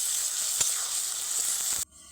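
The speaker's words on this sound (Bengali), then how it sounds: "পেঁয়াজ আর টমেটোর একসঙ্গে হালকা একটুখানি ভাজা ভাজা হবে" Onion paste, large onion pieces and tomato frying together in a pan while cooking koi fish, giving a steady close sizzle that runs continuously before cutting off abruptly near the end.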